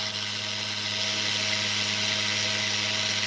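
A fine jeweller's drill whirs without pause while cutting straight holes through a ring to set stones. The high, steady buzz stays close and constant throughout, with no talking.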